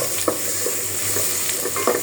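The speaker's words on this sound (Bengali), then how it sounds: "আমার চিকেন আর গাজরটা কিন্তু ভাজা হয়ে গেছে" Chicken pieces and carrots frying in a pan for a healthy iftar dish, with a steady sizzle and a few scraping stirs of a spatula, close and alone with no talking.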